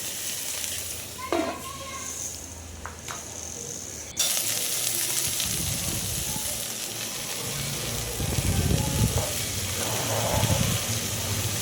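Vegetables, green peas and meal maker soy chunks fry for a vegetable biryani on a medium flame, a faint hiss that jumps to a louder, steady sizzle partway through with occasional stirring.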